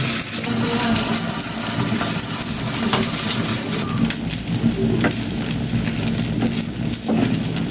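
Eggs frying in a pan, a dense continuous sizzle and crackle throughout with a few faint scrapes, close and without talk.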